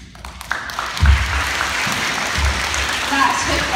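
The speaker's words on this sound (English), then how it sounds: "let's give him a really big round of applause" An audience claps, building into a round of applause that holds fairly steady, with some low thumps and faint voices mixed into the crowd noise.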